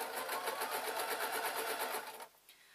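A sewing machine stitching fabric pieces for a small car bag, a fast steady whirring run up close that stops abruptly near the end, leaving faint handling noise.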